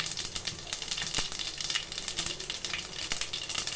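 Mustard seeds with a little fenugreek and cumin fry in hot oil for a fish curry, making a dense, close crackle of rapid pops and spatters over a steady sizzle that runs throughout, with no talk.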